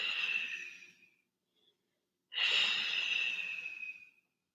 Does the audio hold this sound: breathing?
yes